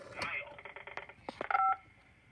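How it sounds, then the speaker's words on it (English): DTMF dialing tones generated by a PBX converting pulse dialing to tone, heard as a short series of quick beeps and bursts. Someone speaks over part of the sequence. "now this PBX here does pulse to tone conversion. So those are tones that PBX is producing."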